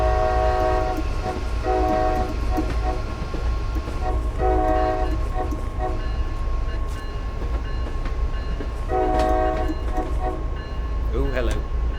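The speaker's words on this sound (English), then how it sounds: "It's been a bit since I've driven the MBTA diesels." A steady low rumble from an MBTA HSP46 diesel locomotive in Train Sim World on a Boston route to Providence, with three long horn blasts sounding over the engine drone.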